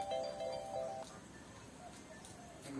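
A mobile phone ringtone signals an incoming call at home, a short melodic tone pattern sounding faintly for about a second over low background noise.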